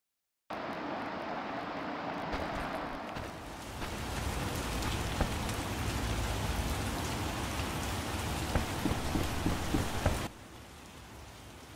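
Steady rain falls in The Witcher video game, a dense even hiss of drops on surfaces that sets in abruptly, thickens partway through, then drops to a quieter wash near the end.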